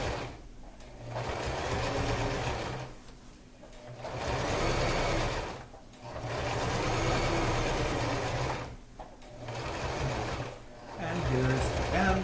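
A sewing machine back-stitching a garment lining runs in long steady whirring bursts separated by short pauses, close and loud, with a person talking briefly.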